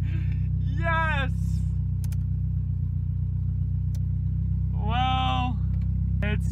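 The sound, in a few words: Toyota Celica ST165 engine idling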